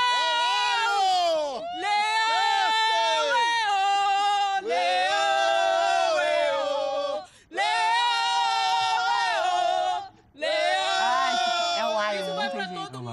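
A family loudly shouts a Fortaleza supporters' chant ahead of the Copa Sudamericana final against LDU, several voices yelling in sustained bursts with short pauses between them, close and forceful.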